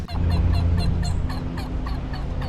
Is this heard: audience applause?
no